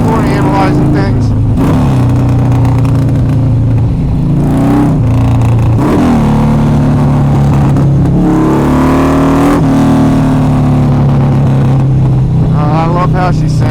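A Harley motorcycle engine rumbles loudly up close, revving up and down in repeated throttle blips over a deep, steady idle.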